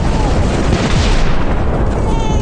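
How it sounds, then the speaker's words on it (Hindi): In the horror zombie survival game The Fall 2, a train engine crashes down with a loud, sustained roaring boom and rumbling debris that fills the whole moment. "चलो मैं दौड़ के आ गया और ट्रेन का इंजन नीचे गिर गया।"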